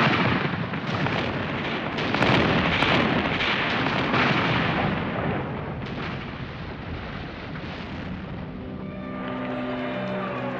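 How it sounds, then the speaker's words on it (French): Loud, continuous rumbling barrage of heavy Francoist artillery fire bombarding a besieged city, dense booms blending together, easing slightly toward the end. "les canons franquistes bombardent"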